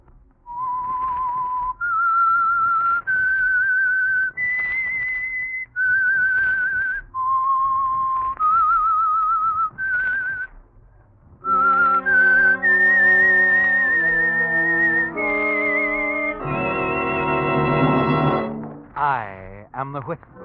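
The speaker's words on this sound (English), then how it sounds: "That whistle is your signal for the Signal Oil Program" A human whistles the theme tune of The Whistler radio show, a lone melody of steady sustained notes, then an orchestral swell with rising chords takes over near the end.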